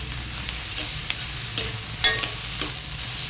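Curry leaves sizzle and crackle in hot oil in a pan for a fish curry, a steady frying hiss broken by small pops and the scrape of stirring.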